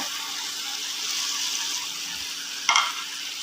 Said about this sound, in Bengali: এটাকে ভালোভাবে নেড়ে চেড়ে মিশিয়ে নেব।